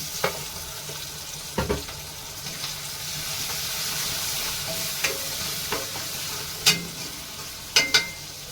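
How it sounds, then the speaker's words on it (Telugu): Tomato pieces fry in a pan for a simple everyday curry, a soft continuous sizzle with sporadic sharp clicks and taps of a spoon against the pan. "ఆ మాదిరి వేగిన తర్వాత నేను టమాటా ముక్కలు కూడా వేసేస్తున్నాను"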